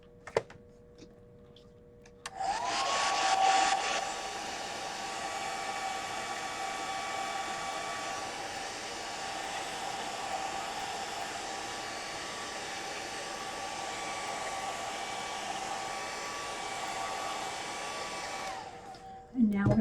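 A hair dryer blows steadily over a fresh gelli plate print, switching on after a short quiet start and running at an even, loud whir for about sixteen seconds before cutting off.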